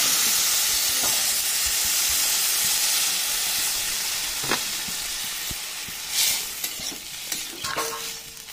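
Water poured into a pan of mixed vegetables frying for a Bengali mixed-vegetable curry. A steady, loud sizzle and hiss runs throughout, and a few spatula scrapes and clinks stand out near the end.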